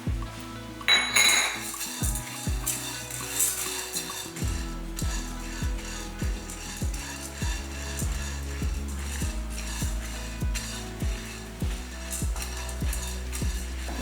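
Chana dal dry-roasting in a pan as a metal spatula scrapes and clinks against it in a steady, regular rhythm, close and fairly loud, with a faint crackle underneath.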